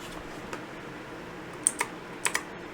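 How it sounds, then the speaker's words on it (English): A few soft, scattered key clicks on a Redragon K552 mechanical keyboard, one faint then a couple of crisper paired clicks near the end, close by over quiet room hiss. "you'll hear a noticeable click"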